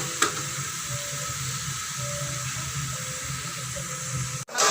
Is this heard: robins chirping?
no